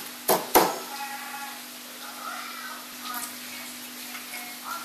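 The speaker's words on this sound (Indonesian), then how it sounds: "Kemudian saya pakai yang belum ditumbuk, terus saya tumbuk kembali." Chili peppers for sambal padang are pounded in a mortar: two sharp, close thuds in quick succession, then a quiet stretch with a faint steady hum.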